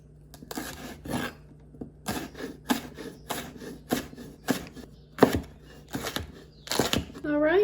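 Vegetables being chopped on a wooden cutting board, a steady series of sharp knife strikes landing in irregular bursts, close and fairly loud, with no voices over them.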